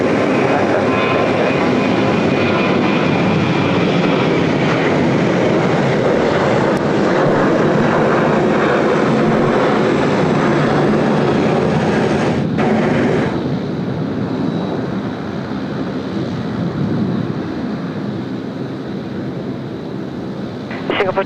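A Singapore Airlines jet climbs out after takeoff at Sydney Airport, its loud, sustained engine roar filling the whole stretch and easing slightly toward the end, with faint speech underneath.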